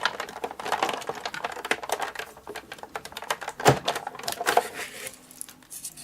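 A die cutting machine grinds a metal die between cutting plates, a steady crunchy whir with irregular clicks and a couple of sharper cracks near the end, heard close.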